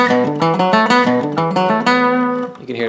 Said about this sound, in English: Now if I go back towards the bridge and do the same picking,